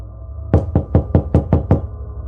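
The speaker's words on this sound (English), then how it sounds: "The knocking on the front door continues." Seven firm knocks on a front door at night, evenly spaced and loud, close and dry against a quiet hum.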